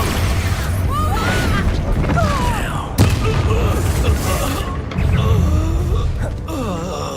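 Hogwarts Legacy spell combat with loud booming blasts and sharp impacts, including an Expulso explosion, over a continuous din of battle and whooshing effects, with sudden bursts near the start and middle.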